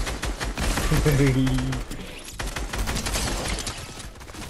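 Rapid gunfire in Fortnite, dense bursts of sharp shots crackling throughout, with a voice talking over the first half.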